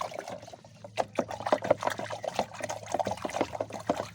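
NPK 16-16 fertilizer solution poured from a container onto compost, a close, quiet trickling and splashing stream with uneven bursts of liquid throughout.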